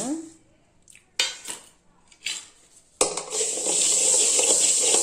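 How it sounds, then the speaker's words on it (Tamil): Mustard seeds dry roasted in a pan without oil while making sambar powder, with a few metal clinks and scrapes of a spoon, then a sudden steady crackling hiss as the seeds heat up, close and loud. "அடுத்து கடுகு வறுத்துக்கலாங்க"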